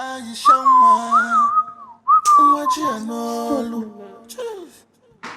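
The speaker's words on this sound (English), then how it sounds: "Let me whistle." Someone whistles a wavering, sliding melody up close, with short pauses between phrases and a faint breathy sound near the end.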